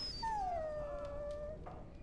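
A dog in Dragon Age Origins lets out one long, drawn-out whimpering whine that rises and then slowly falls, clear and close over quiet background noise.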